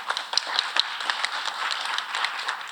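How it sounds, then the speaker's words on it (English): Audience applause at a smart growth summit in Louisiana, a thin scatter of individual claps spread through a small room, moderately loud and steady for a few seconds with no talk. "A round of applause for Ms. Jackson"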